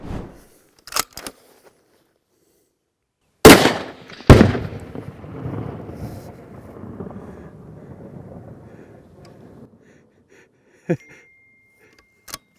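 Two loud rifle shots from a rifle in an XLR Element 4.0 magnesium chassis, fired at rock chuck targets 223 yards away, each with a long rolling echo outdoors, plus a few faint clicks before and after.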